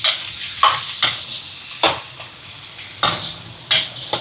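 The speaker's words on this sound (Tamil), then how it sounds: "இப்போ இதெல்லாம் நல்லா வதங்கட்டுக்கும்." Small onions and dried chilies sautéing in a pan: a constant hiss of frying with a spoon scraping and stirring in several sharp bursts, close and fairly loud, with no talk.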